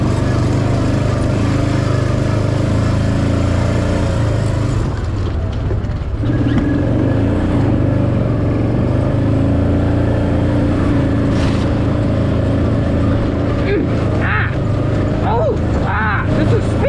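A Mule utility vehicle's engine drones and revs loudly and steadily on a trail, close up, with a person talking over the motor noise at times.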